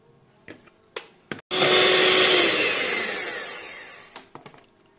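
An electric hand mixer beating eggs into cake batter for a jaggery plum cake, switched on after a few light knocks and whirring steadily and loudly for about three seconds before winding down, followed by a few more clicks and taps.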